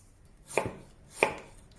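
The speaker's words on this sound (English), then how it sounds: "Cut the scallion into 1-inch sections." A knife cuts scallion into 1-inch sections on a cutting board, giving two crisp, close chops about two-thirds of a second apart with quiet between them.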